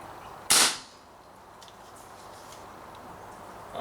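A single sharp crack from an Umarex Marlin revolver air gun, one close shot that fades fast into quiet background.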